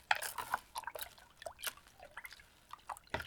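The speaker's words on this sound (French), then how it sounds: "On peut entendre le sel de bain qui bouge." Bath salts shift and rattle in bathwater as a hand stirs it, producing faint, close-up drips, splashes and small liquid swishes in an irregular patter.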